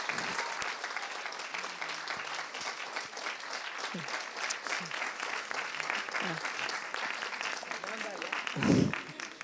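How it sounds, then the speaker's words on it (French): An audience at a conference claps in a steady, sustained wash of applause for a speaker, heard from some distance at a moderate level, with a brief thump near the end. "je vous demande vraiment d'accueillir et d'applaudir"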